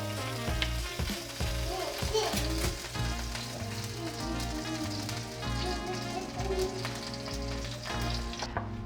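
Sauce sizzling in a pan with seared Chilean sea bass, being stirred, a loud continuous frying crackle with scraping and stirring movements throughout.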